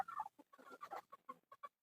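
Chickens on a farm cluck in a quick, uneven series of short calls, faint and fairly close, with no other sounds around them.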